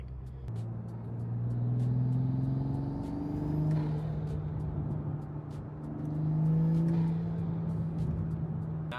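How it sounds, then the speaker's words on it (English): Toyota Supra intake noise heard from inside the cabin, a deep engine drone that rises in two long revving swells, each followed by a brief whooshing release. "hopefully the audio will be able to pick up that intake noise from the cabin of the car"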